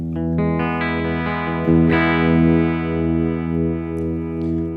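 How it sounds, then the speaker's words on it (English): Clean electric guitar notes and a sustained chord through a Blackstar AMPED 2 amp with a gentle, wavering harmonic tremolo shimmer, a warm pulsing movement rather than a hard on-off chop. "And then you've also got a harmonic sort of trem."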